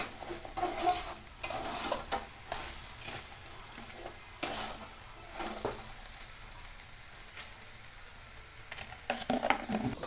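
A spoon stirs spinach greens with prawns in a pan, intermittent scraping strokes over a soft sizzle, with scattered clinks against the metal, close and moderately loud.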